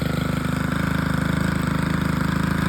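A gas-powered lawn equipment engine idles close by, a steady rapid chugging putter with even rhythmic pulses and a rough vibrating tone, continuous for the whole stretch.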